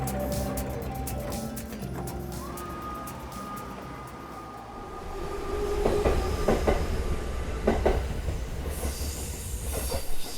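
A local Izu Kyuko Railway train on Japan's Izu Peninsula rumbles steadily along the tracks, wheels squealing in long tones and rails clacking, growing louder near the end.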